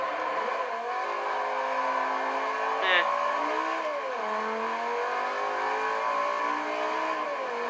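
A Lamborghini Gallardo Balboni's engine revs steadily through a lap driven like a drift car, a continuous loud drone whose pitch rises and falls with gear changes and throttle, with a brief chirp midway.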